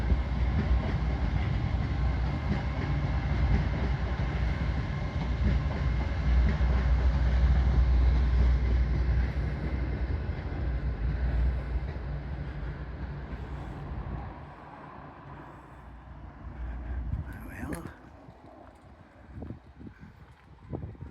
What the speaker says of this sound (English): So there's a train. It is just leaving the station.